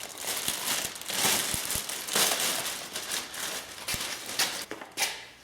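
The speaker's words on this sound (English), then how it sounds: "I'm gonna take the plastic off and see what happens." Plastic wrapping peeled and crumpled off a new replacement window regulator for a 2004–2008 Ford F-150, a close, continuous crinkling and rustling with a few sharper snaps.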